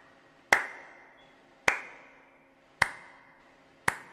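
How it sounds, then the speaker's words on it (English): Four single sharp claps in the video game After The Curtain Call, spaced about a second apart, each ringing briefly in a reverberant theatre hall, with silence between them. "Where is that clapping?"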